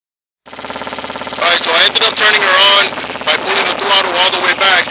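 A 2008 Kawasaki Ninja 250R engine runs unevenly, its rough idle surging and sagging with a loud, wavering drone that sounds close to stalling; voices are faint or absent.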